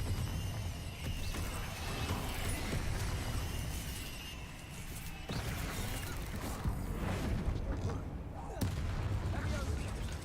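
Confringo and Incendio spell blasts in the video game Hogwarts Legacy boom and whoosh in quick succession, loud and dense with game effects and a voice speaking over them.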